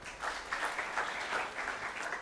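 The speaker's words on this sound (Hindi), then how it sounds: "जोरदार ताली" Applause from an audience at a talk session, steady dense clapping at moderate loudness, with no talking over it for the whole short stretch.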